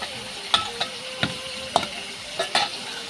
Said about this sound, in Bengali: ভাজি বসিয়ে দিয়েছি ওকে লাগছে না কড়া করে ভাজা করবো